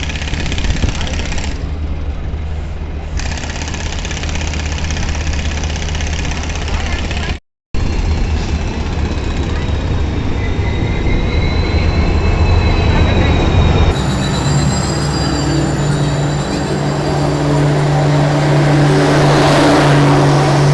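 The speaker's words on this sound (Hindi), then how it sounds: "तो बड़ी ट्रेन आ गई है" A large train rolls into a station, its rumbling wheels and carriages loud and close throughout, with high metallic wheel squeals rising in the second half and a brief dropout partway through.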